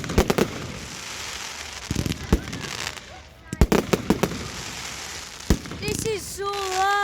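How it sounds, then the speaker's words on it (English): Fireworks burst at an outdoor firework display: a series of sharp, loud bangs with crackling between them, and whistling rockets near the end. Excited voices are heard. "they're lighting it up and it's a firework display"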